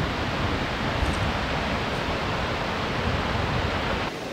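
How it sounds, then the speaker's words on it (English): Water from Australia's highest waterfall crashes against rock walls, a constant dense roar with deep thumping low end, heard without talk and dropping slightly just before the end. "I can hear the thumping boom as the water hits the rock walls"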